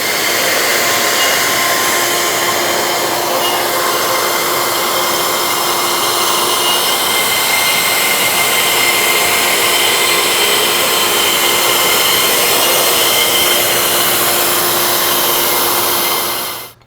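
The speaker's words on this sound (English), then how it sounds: "we just keep routing in increments until we're through" A router cuts an oval through wood guided by an ellipse jig, giving a loud, continuous high-pitched whirring roar that holds steady throughout and then cuts off abruptly at the end.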